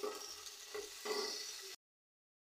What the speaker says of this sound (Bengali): এখন তেলের উপরে একটু ভেজে নিচ্ছি।